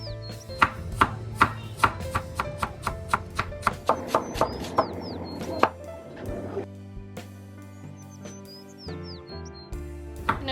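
A knife chops onions on a board while making Kerala sardine mappas, giving a run of crisp, evenly spaced taps that then soften into quieter clatter, with small birds chirping faintly in the background.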